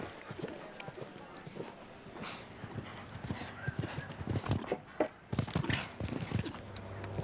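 Horse hooves clop in a steady, fast rhythm during a show jumping round at Spruce Meadows, mixed with crowd noise and a commentator talking over them.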